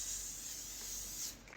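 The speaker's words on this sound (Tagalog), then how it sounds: "Type na setting spray na para siyang hairspray." L'Oreal makeup setting spray hissing out in one steady, close, fairly quiet burst lasting over a second before cutting off.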